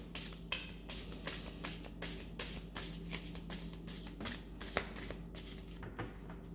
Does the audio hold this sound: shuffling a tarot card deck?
yes